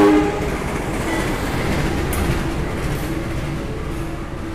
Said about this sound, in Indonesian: Itu kereta api Kahuripannya sudah mulai memasuki stasiun Lempuyangan ya.